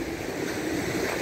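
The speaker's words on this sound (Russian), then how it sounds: "И волны очень глубоко заходят сюда" Wind-driven surf from the Sea of Azov rolling up onto a beach on a blustery northwest wind, a steady close wash of waves with broad wind noise over it and no voices.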